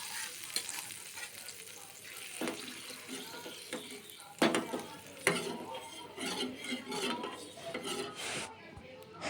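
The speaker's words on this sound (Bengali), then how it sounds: "একটুখানি নেড়ে নিয়ে আমি তড়কাটা লাগিয়ে দেব" Hot tadka tempering goes into a besan and yogurt curry, giving a burst of sizzling and spattering, then steady spoon stirring and scraping in the pot, with a few sharp clatters along the way.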